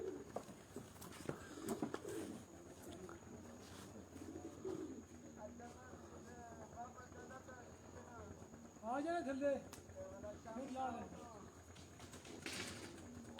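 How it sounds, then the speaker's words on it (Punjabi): Pigeons arriving at a pigeon-flying competition in Punjab give soft, repeated coos and some wing flutter, faint and intermittent under ongoing talk from people nearby. "ਇਹ ਜੀ ਕਬੂਤਰ ਆ ਰਹੇ ਨੇ ਜੀ।"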